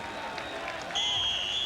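A crowd of about 10,000 fans at a 1987 Raiders–Chiefs football game in the stadium applauds, a broad steady wash of clapping and crowd noise under a broadcast announcer's voice, with a whistle-like tone partway through.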